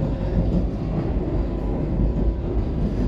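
A passenger train runs on the Chennai–Mumbai line near Arakkonam, heard from inside as a steady, loud, continuous rumble and roar of wheels on track, with no talking.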